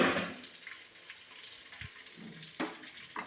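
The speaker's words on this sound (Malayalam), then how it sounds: "നമുക്കതിലേക്ക് വേവിച്ച് വെച്ചിരിക്കുന്ന ചിക്കൻ ഇട്ട് കൊടുക്കാം." Cooked chicken tipped into sizzling masala in a pan, a bright frying hiss up close, broken by a few soft thumps and one sharp scrape as the pieces land and settle, with no voices.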